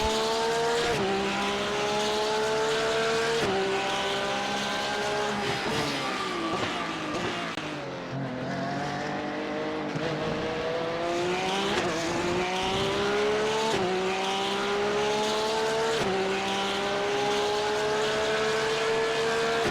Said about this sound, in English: As I push on the throttle, the 911 really does surge forward with unrelenting power.